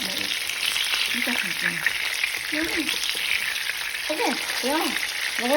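Fish frying in a pan in a home kitchen in Norway: a steady, loud, crackling sizzle runs throughout while a person talks over it.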